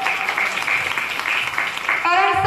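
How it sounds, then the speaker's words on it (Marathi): Applause from a crowd at a Marathi political speech event, steady clapping throughout, with a voice rising over it near the end. "यांच्यासाठी एकदा टाळ्या वाज"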